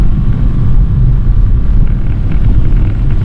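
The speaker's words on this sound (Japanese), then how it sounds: "今ベタ踏みなんよ、アクセル、目いっぱい踏んでるけど40キロ出ないもん" A steady, loud engine drone with a low rumble holds constant throughout from a small kei camper van at full throttle, straining below 40 km/h.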